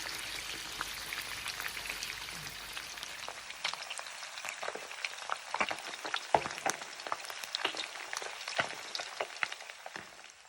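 Small mountain fish deep-fry in hot oil, giving a busy crackling sizzle dotted with sharp pops and spits that grow louder and denser as it goes on.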